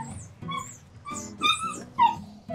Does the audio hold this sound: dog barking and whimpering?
yes